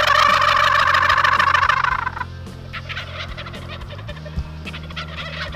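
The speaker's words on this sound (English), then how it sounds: "3, 4 of them I could hear. They kind of clicked in my mind to hit my gobble tube. They're gobbling like that." Wild turkeys gobble in the woods, several loud rattling calls close together at first, then more distant, scattered gobbles answering across the trees.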